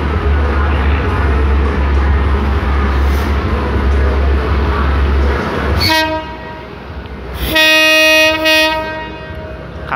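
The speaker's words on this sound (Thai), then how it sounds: "ก็ได้เวลาที่ขบวนรถด่วนที่83นะครับบางบำรุตรังนะออกจากชานชาล" Express train 83 pulls out of Bang Bamru station in Thailand. A steady rumble of rail cars builds, then the horn sounds twice, loud and close, with the second blast held longer.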